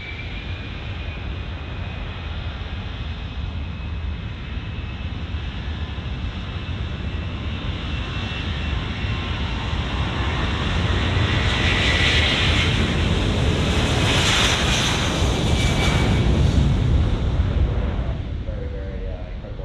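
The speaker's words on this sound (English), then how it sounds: "we're very lucky now as we watch the Spitfire take off" A Spitfire's piston engine drones through take-off, a loud, rough, sustained roar that swells in the second half as the aircraft powers away, with no talk over it.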